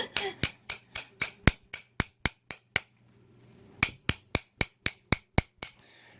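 Sharp metallic hammer blows knock a seized nipple piece out of a Honda ATC front brake arm, a close run of about ten evenly spaced strikes, a brief pause, then another quick series of hits.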